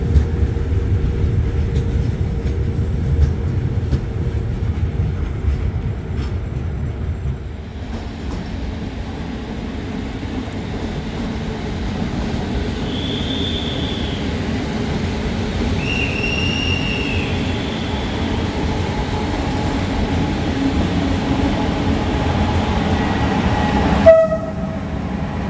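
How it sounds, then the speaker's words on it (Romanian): A Regio Express 5400 train rumbles steadily at București Nord station, with heavy continuous rail noise, a few faint squeals of wheels or horn tones mid-way, and a sharp clank near the end. "Regio Express 5400 sub București Nord."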